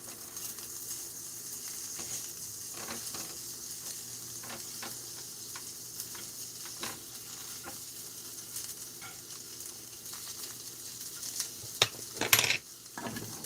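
Breakfast food sizzling steadily in a frying pan during flipping, a constant crackling hiss with scattered ticks and a few sharp utensil scrapes and clinks near the end.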